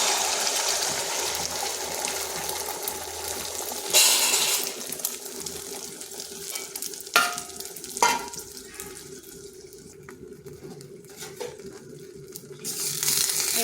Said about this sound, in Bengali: এখানে আরেকটা কড়াই বসিয়েছি। এরপর দিয়ে দিচ্ছি ডিমটা।